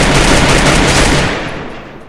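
Rapid automatic gunfire in the Free Fire video game, a dense, loud, continuous burst of shots that fades out over the last second, with no voices.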